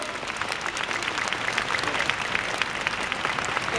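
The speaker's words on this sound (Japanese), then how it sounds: "温かい拍手をよろしくお願いします" Warm audience applause at a live football supporters' event, a steady dense wash of clapping hands that holds evenly throughout, loud and close with no break.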